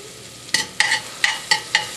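Shallots cook in butter over medium heat, with close, regular stirring scrapes and a soft sizzle underneath, about six strokes in two seconds.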